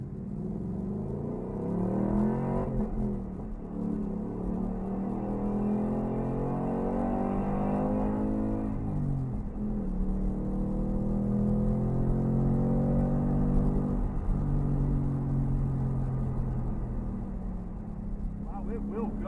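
A 2021 Ford Mustang Mach 1 pulls hard around Road Atlanta, its engine note rising and falling through the gears as a steady drone heard from inside the car, with a voice talking over it at times.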